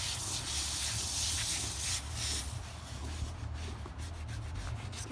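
A horse's legs scrubbed with Dawn dish soap, a continuous soft rubbing and brushing hiss close by, brisker in the first half and then easing into lighter strokes.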